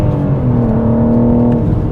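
A pink 2024 BMW M4 with a six-speed manual and rear-wheel drive revs hard, its engine note rising in a loud, steady, close-up run toward redline with no talk over it.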